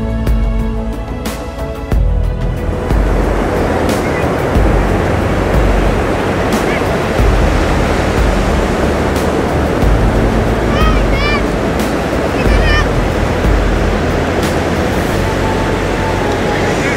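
Loud, continuous roar of sea waves breaking on a beach near Teknaf, a broad rushing wash close by with a voice talking faintly over it.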